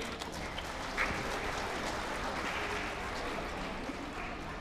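Audience applause at a Silitonga clan gathering, a steady wash of clapping from a crowd that stays even and fairly loud from start to finish.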